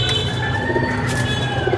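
Soft, low pigeon cooing repeats in a steady murmur over a constant background hum, with no voices present.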